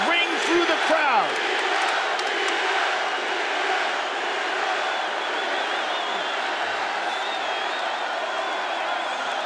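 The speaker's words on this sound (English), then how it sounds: "the chants of Diaz ring through the crowd" Arena crowd at an MMA fight between McGregor and Diaz, a dense roar of chanting voices that holds loud and steady throughout, with a brief shout near the start.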